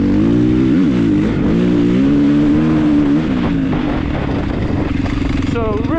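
A Honda motorcycle rides a desert dirt track, its engine loud and close, revving up and down in rising and falling surges before settling into a steadier drone.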